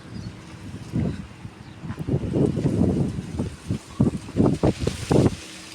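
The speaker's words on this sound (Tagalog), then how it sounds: "Lakas ng hangin." Strong gusts of wind in a garden buffet the microphone in uneven bursts, rising and falling with rough low rumbling.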